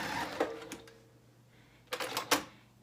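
A sewing machine stitches a line on a child's dress, quiet and close, with a low steady hum and a few faint clicking bursts spaced irregularly through the short clip.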